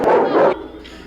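A dog lets out a loud, close burst of barking that breaks off abruptly halfway through and gives way to quieter room noise.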